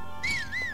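A short rising-and-falling whistle tone called out to summon a horse in the video game The Legend of Zelda: Breath of the Wild, clear and moderately loud over a faint background hum.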